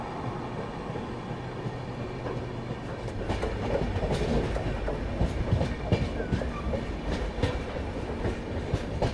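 The Garib Rath Express runs steadily along the tracks with a continuous loud rumble and rhythmic clickety-clack of wheels over rail joints, heard from on board.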